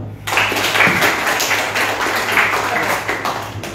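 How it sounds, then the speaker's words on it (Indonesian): An audience at an IT career talk claps briefly: a short burst of scattered applause in a room, with a low electrical hum underneath and some voices mixed in. "Tepuk tangan."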